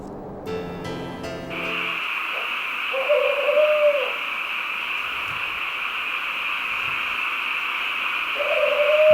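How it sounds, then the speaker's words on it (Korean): An owl hoots at night, a few tonal calls standing out over a constant high insect or frog chorus, preceded by a short musical sting at the start. "모두가 잠이 든 한밤중 야행성 올빼미의 사냥이 시작된다."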